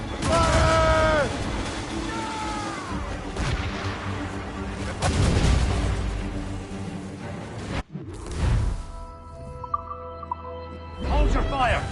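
Ship cannons fire during a naval battle in the video game Assassin's Creed Rogue, with heavy booms and a sharp blast near the middle set among voices and a busy game soundscape.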